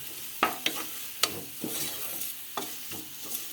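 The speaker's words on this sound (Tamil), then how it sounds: "நல்லா வதக்கிக்கலாம்" Spoon scrapes and stirs biryani masala through a sizzling pan, a handful of sharp clacks standing out over a low, steady frying hiss.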